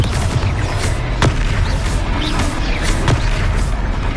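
A fiery Confringo blast spell from the Hogwarts Legacy video game goes off amid game combat noise, with a couple of sharp bursting booms cutting through a dense, loud rumble.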